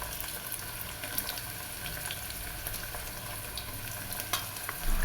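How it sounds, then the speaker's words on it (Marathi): Cumin seeds and a little turmeric sautéing in a pan, a steady low sizzle with occasional light stirring scrapes throughout, fairly quiet and close, with no voices. "त्याला छान परतून घेऊया"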